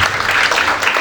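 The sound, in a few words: applause in church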